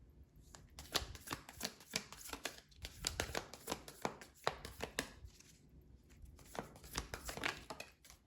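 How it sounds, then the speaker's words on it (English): Miracle Mantra oracle cards being shuffled by hand, a close, quiet run of rapid papery riffles and flutters in repeated bursts, with no talking. "let's get one of these Miracle Mantra cards here"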